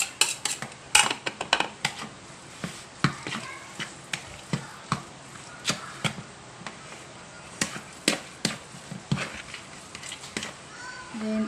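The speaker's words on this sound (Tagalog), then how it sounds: "So ako nang ihalo ang ahos na gitang pino." Finely chopped garlic is mixed into ground pork in a bowl, heard as a brisk run of close utensil clinks and knocks against the bowl, irregular but steady throughout.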